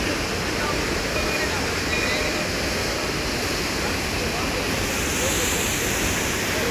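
Steady, loud rushing of a flowing stream at Manikaran Gurudwara, a continuous dense roar with no pauses throughout.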